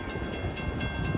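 LIRR commuter train 2772 from Jamaica to Patchogue runs through the Saxon Avenue crossing between Bay Shore and Islip on a cold winter day, a close, loud rumble with rhythmic wheel clatter and a faint horn tone.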